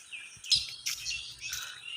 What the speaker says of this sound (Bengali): পাখির আওয়াজগুলো কি দারুণ লাগে